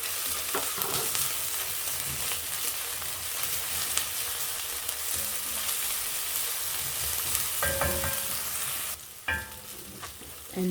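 Chopped onion, ginger and garlic sizzle and fry in a pan for a Kenyan matumbo dish, a steady, soft crackle with occasional stirring clinks and scrapes.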